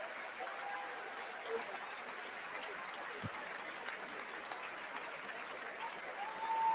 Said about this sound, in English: I think they're clapping because it's over